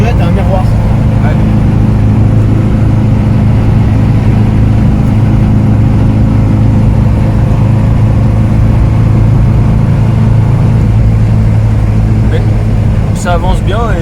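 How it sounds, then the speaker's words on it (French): A 1962 Simca Aronde Rush Ranch with a 62 hp engine drives along with a steady, loud cabin drone under continuous talk from the occupants. "Un moteur de 62 ans avec 62 chevaux pour une tonne 3, ça se déplace très bien."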